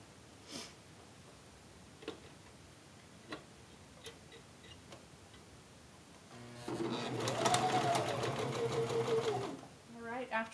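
Sewing machine running a top stitch along a kimono gown hem: a steady, fairly loud mechanical whirr for about three seconds, preceded by sparse ticks and light handling clicks, with faint speech at the edges.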